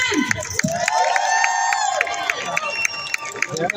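A political rally crowd in Sacramento cheers and claps in a lively, continuous burst, with scattered whoops and sharp claps close by and a voice rising over the noise.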